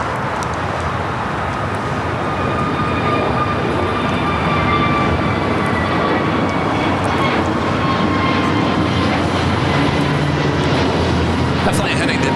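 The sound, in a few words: United Boeing 787 Dreamliner arriving from London Heathrow at LAX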